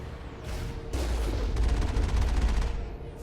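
Enemy gunfire in the sci-fi shooter Mass Effect, a few separate shots followed by a fast rattling automatic burst, fairly close and moderately loud with no talking.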